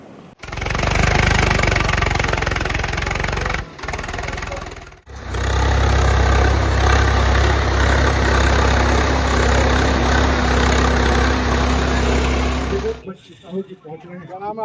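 A tractor engine runs steadily in a farm field with a low, heavy rumble and rattling mechanical drone, dipping briefly twice before cutting off near the end.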